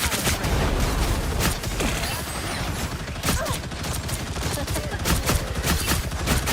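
Rapid gunfire in the video game Marvel Rivals, a dense, loud stream of shots and impacts running continuously throughout, with game voice lines mixed in.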